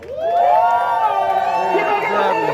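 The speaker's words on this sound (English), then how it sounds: "Let's give a big round of applause for Michelle." A crowd cheers and whoops for Michelle Wu at a rally in Roxbury, loud, close and sustained, with high voices rising and falling together and no clear clapping.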